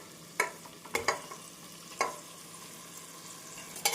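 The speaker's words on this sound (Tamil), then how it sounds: "வெங்காயம், தக்காளி இந்த அளவு நன்றாக மசிந்து வரவும் நாம் ஊற வைத்த சிக்கனை சேர்த்து விடலாம்." Marinated chicken stirs into an onion and tomato masala for chicken leg piece biryani, a soft sizzle under repeated sharp spoon knocks against the pot at irregular intervals, with no voices.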